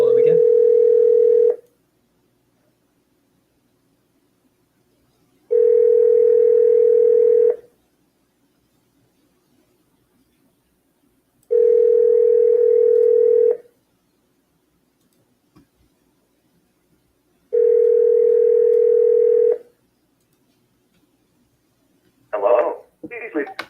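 A telephone dial tone sounds in four evenly spaced bursts, each lasting about two seconds and separated by silence, while a call is placed to reach someone again. A short burst of faint dialing or clicking comes right at the end.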